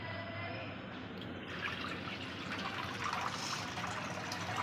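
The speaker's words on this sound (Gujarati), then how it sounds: "આવી રીતે આપણે બધું જ પાણી કાઢી લઈશું" Water trickling and dripping as it is drained from soaked kerda for Gujarati pickle, a soft continuous pour with fine drips, fairly quiet and close.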